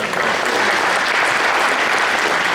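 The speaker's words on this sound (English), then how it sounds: "y'all give Miss Cindy a round of applause" Dense, loud applause from a crowd at a touchdown club meeting, given in thanks for a woman's fried chicken, a continuous close roar of clapping from start to finish.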